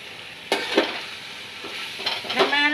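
Chicken and onions with ginger and garlic sizzle softly in a pan while a utensil stirs and scrapes now and then, the frying hiss steady underneath.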